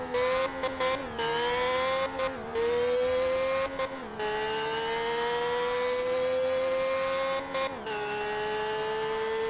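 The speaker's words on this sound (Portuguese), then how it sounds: "Olha o ronco desse carro" Car engine roaring in Car Parking Multiplayer, a loud sustained drone whose pitch climbs steadily through gears, dropping briefly at each shift before rising again, with no talk.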